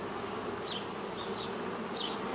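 Honeybees buzz around an open hive in a continuous droning hum, with individual bees swelling briefly louder as they pass close.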